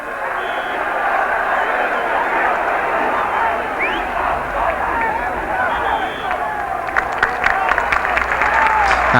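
Hull City fans and teammates give a steady round of applause for Adam Lowthorpe at the end of his debut against Bradford City, a continuous crowd clapping wash under a commentator's voice.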